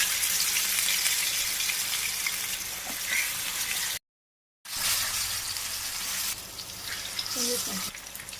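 Fish coated in rice flour and spice paste frying in oil with curry leaves, a steady bright sizzle and crackle close up that runs throughout, broken by a brief gap, with no talking.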